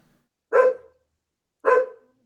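A dog gives two sharp, separate barks about a second apart, close and clear against silence.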